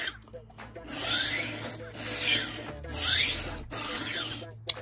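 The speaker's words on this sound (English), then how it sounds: "Just line it up to your knife and go back and forth." A kitchen knife drawn back and forth through a tumbler rolling knife sharpener, giving four long rasping strokes in a steady rhythm, close and fairly loud.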